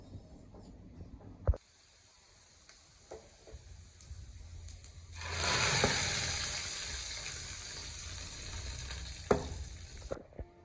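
Dal with jute leaves frying in a pan gives off a steady oil sizzle that swells loudly midway and then holds, with a few sharp utensil knocks and stirring clatters, and no talking.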